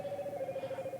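A faint, steady pulsing electronic tone repeats rapidly at an even rhythm, like a distant phone ringing or dialing signal, quiet behind a low background hum.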